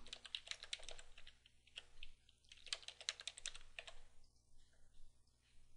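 Quiet typing on a computer keyboard as user details and a password are entered, with irregular bursts of soft key clicks over a low electronic hum.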